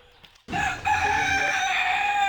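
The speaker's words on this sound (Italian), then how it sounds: "Tenete pure il gallo." A rooster crows loudly and close by, one long sustained call starting after a brief quiet moment, with no talk over it.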